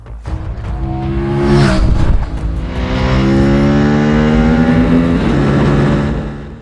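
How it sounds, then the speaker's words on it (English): An Aprilia Tuono 457 motorcycle engine pulls hard while riding, rising through revs in several climbing sweeps with gear changes between them, loud and close. "I have always loved this engine, the way it sounds, the way it delivers the power"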